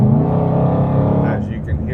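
A 2022 Shelby GT500 Heritage Edition Track Pack engine rumbles and revs loudly up close from inside the cabin, a dense, throaty roar that holds steady, with a voice talking over it.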